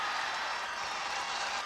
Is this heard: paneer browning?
no